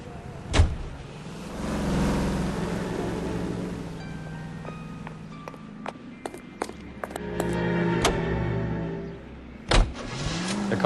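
Car in the L.A. Noire video game: a steady engine hum with mechanical whirring and clicks, a couple of door-like thumps, and engine rumble swelling as it drives.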